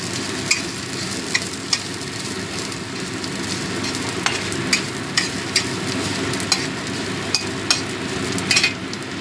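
Onions frying in a little hot oil for a prawn stock, a steady dense sizzle with scattered sharp crackles and pops throughout, no voices.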